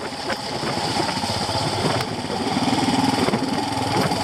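A Royal Enfield Himalayan motorcycle engine runs on a gentle, light throttle on a muddy UK green lane, a steady low thrum close by with slight rises and no talk.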